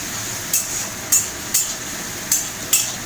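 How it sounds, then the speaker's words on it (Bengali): Onions fry in a pan as garlic is added, a low steady sizzle punctuated by five evenly spaced sharp metallic scrapes or taps of a spoon against the pan. "তো পেঁয়াজটা ভাজা ভাজা হয়ে গেছে, এবারে দেবো রসুন"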